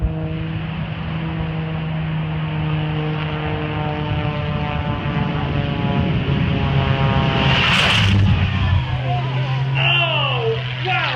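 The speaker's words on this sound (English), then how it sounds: "Paul Stender has got that baby revved up" A jet-powered bus at a lake airshow revs up in a loud, sustained engine roar with a rising whine, heard from a distance among other aircraft noise, with an announcer talking over it.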